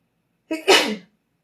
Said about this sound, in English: so it's either a sneeze or a hiccup